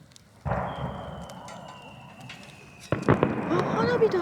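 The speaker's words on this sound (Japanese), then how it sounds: "あ、花火だ。 花火だ。" Fireworks burst over Lake Yamanaka at a lakeside campsite, a sharp boom followed by crackling rumble and a second cluster of bangs, fairly loud and distant-echoing, with people talking quietly underneath.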